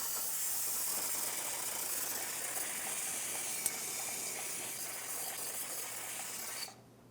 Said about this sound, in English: Take my parts cleaner and clean the surface.